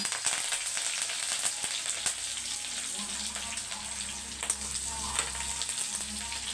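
Garlic, green chillies, dried red chillies and curry leaves fry in hot oil, giving a steady crackling sizzle with scattered sharp pops throughout, close and moderately loud, with no talk over it.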